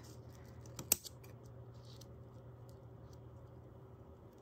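Scissors trim paper for a craft page in a single quick, crisp snip, then a couple of faint follow-up cuts, close against a quiet, humming room.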